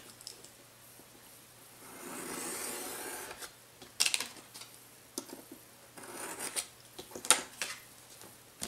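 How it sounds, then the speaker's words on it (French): Paper corners being trimmed with a craft knife or scissors, several quiet snips and scrapes spaced out over a few seconds, close up in a quiet room. "on coupe nos angles. Au cutter ou au ciseau"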